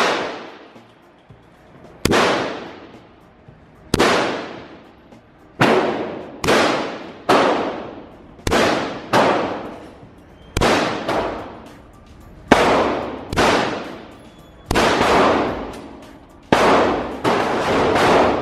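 A P90 is fired in real life, each loud sharp shot trailing off in a long echo. About a dozen single shots come at uneven intervals of roughly one to two seconds, close and alone.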